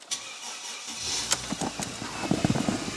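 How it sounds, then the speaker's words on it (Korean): A Mercedes-Benz CLS 350 with a 3.5-litre petrol engine cranks briefly after a click, then catches and settles into a steady, smooth idle hum. "엔진도 잘 걸립니다 엔진도 잘 걸리고요"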